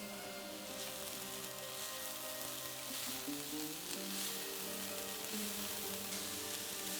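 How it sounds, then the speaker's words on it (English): Broccoli slaw stir-frying in a wok with salt, a steady dense sizzle and crackle that runs the whole time, with soft stirring and scraping and a low steady hum underneath, no voices. "Let's give it a good mix."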